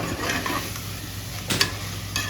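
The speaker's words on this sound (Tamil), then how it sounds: "மேலே கறிவேப்பிலையை லைட்டாக தூவி ஒரு ரெண்டு திருப்பு திருப்பிக்கலாங்க" Mint goat intestine curry sprinkled with curry leaves is stirred in a hot pan: a close, continuous sizzle with a few scraping stirs, one sharper scrape standing out briefly.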